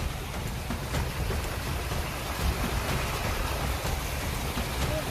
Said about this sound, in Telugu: కింద చూడవచ్చు మీరు పైనుంచి వాటర్ ఎలాగ వస్తున్నదో